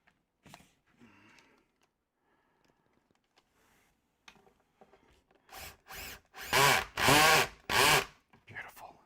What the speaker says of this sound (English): Let's get a screw in there